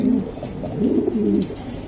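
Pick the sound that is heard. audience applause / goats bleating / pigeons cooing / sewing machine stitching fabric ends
pigeons cooing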